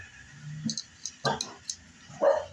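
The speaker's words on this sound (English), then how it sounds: "Oh, sorry about the dogs." Dogs at home give a few short yips and whimpers close by, spaced across a couple of seconds, with light clicking in between.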